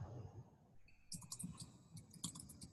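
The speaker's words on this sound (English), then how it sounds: "I hear typing." Faint typing on a computer keyboard during an online call, a loose scatter of soft key clicks after a brief stretch of low background noise.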